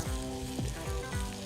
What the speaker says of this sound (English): Drizzle some olive oil. Let frying up. Ooh, sizzling.